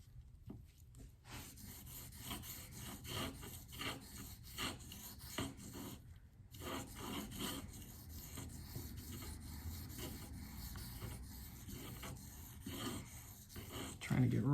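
S110V knife steel being sharpened on diamond stones, 400 grit super vitrified and Venev: repeated rhythmic scraping strokes, close and quiet, with a brief pause midway and a soft thump at the end.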